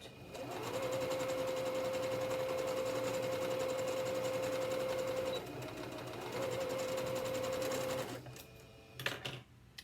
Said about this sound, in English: we're going to sew right across that top, still using about a 1/4 inch seam